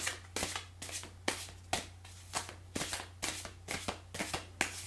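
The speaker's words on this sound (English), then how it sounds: "I'm just going to do a quick shuffle" A deck of tarot cards is shuffled by hand, a rapid series of close, crisp riffling bursts repeating in a fast rhythm over a low steady hum, with no talking.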